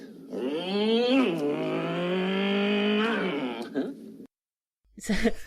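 A human voice imitates a motorbike engine, a sustained droning buzz that rises and falls in pitch for several seconds, followed by a brief pause and a short burst of voice.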